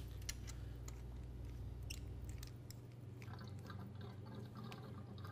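Mains water from a hose fills the rubber bladder of an apple cider press, heard as a faint, quiet trickle with scattered drips and a low hum that fades partway through.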